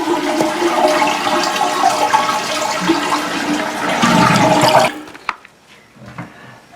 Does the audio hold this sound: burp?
no